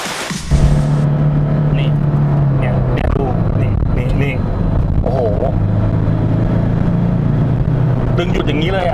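A diesel Toyota Hiace van fitted with a premium 18z front and rear brake kit and an electric parking brake is driven during a brake test. The engine drones loudly and steadily while someone talks over it throughout.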